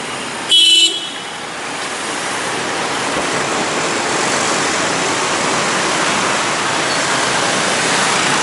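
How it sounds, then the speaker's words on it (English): Busy street traffic in Vietnam surges off the moment pedestrian lights change, a steady broad roar of many engines building and holding, with a brief loud horn toot near the start. "Once those pedestrian lights go red, the traffic goes instantly."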